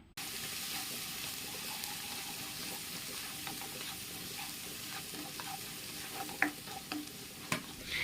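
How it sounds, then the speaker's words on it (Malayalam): Finely chopped ginger and garlic fry in oil with a soft, steady sizzle while a spoon stirs and scrapes the pan, a few sharper clinks near the end. "ഇതൊന്ന് നമുക്ക് മൂപ്പിച്ചെടുക്കാം"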